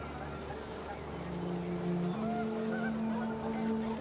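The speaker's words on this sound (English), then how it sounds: "panicked geese appeared and quickly went" Panicked geese honking in the video game What Remains of Edith Finch, several wavering honks over a steady windy background, moderately faint and somewhat distant.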